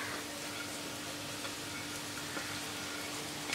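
Chopped cabbage sautéing in a pan, worked with a spoon, produces a faint, even sizzling hiss that runs steadily from start to finish with barely any distinct stirring knocks.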